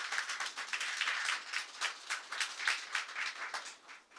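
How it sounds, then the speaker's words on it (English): Scattered, moderately faint audience applause at a health ministry event, a steady patter of many hands clapping for about four seconds before tapering off. "Let's give Farm Care a big round of applause"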